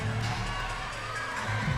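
Arena crowd at a college volleyball match between CMU and BYU, a broad, distant roar of cheering voices filling the hall, steady throughout.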